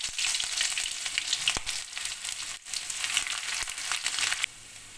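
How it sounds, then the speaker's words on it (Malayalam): Mustard seeds sizzle and crackle in hot coconut oil, giving a loud, close, continuous frying hiss with sharp pops scattered through it. The sizzle eases slightly at the very end. "വെളിച്ചെണ്ണ ചൂടായി വന്നിട്ടുണ്ട്. 1 ടീസ്പൂണ് കടുക് ഇട്ട് കൊടുക്കാം."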